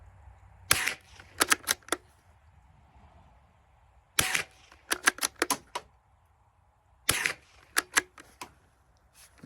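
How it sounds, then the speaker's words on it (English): Suppressed Ruger American .22lr bolt-action rifle fires in three bursts, each a sharp muffled crack followed by several quick clicks of the bolt being worked, quiet outdoor pauses between. "So that was 10 more shots suppressed."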